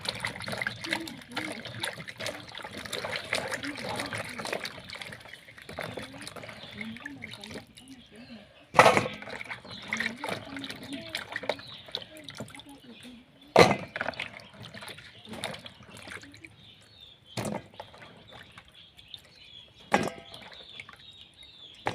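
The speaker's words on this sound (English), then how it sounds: "We are going to wash the bananas." Green bananas fresh from the farm being washed in water in a village kitchen, with intermittent trickling and splashing plus a few sharp knocks, under ongoing talk.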